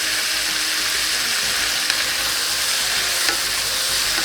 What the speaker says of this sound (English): Let's give it a little mix.